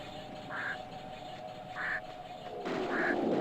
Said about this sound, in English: Why do I hear a crow?